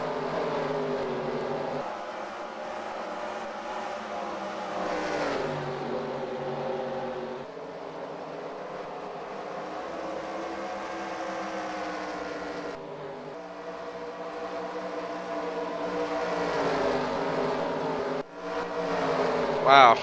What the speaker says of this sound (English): Wow, there's just so many cars